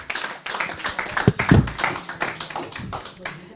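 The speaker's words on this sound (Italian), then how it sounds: "qui vorrei un altro grande applauso, Andrea Montanari" Clapping from a small audience at a youth football team presentation in Rimini, uneven close hand claps for a veteran player, with a few sharp louder claps near the middle.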